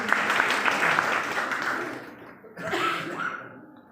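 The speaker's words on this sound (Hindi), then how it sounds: "जोरदार तालियां" An audience claps loudly for a poet at a Hindi poetry reading, a dense burst that thins briefly midway, then picks up again.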